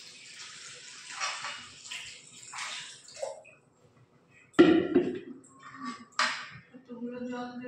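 Water sloshes and pours over eggplants and potatoes in a pot, with splashy bursts separated by quiet gaps and a louder clattering pour partway through.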